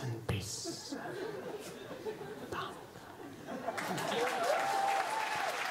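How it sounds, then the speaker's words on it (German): Applause and chatter from an audience at a German poetry slam, a steady patter of clapping with scattered chuckles that swells louder toward the end. "Einen großen Applaus für den großartigen Ivo Engeler"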